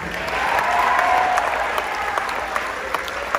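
Audience clapping for a graduating high school band senior at a band seniors ceremony, steady sustained applause from a crowd filling the room.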